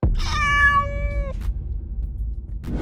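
A single drawn-out cat meow, clear and close, rising then holding steady before cutting off, followed by quiet with a faint click near the end.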